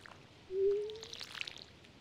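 Crops are watered in the farming video game Stardew Valley with a short, soft watery pour and gurgle that rises and fades, followed by faint sparkly chimes against a quiet background.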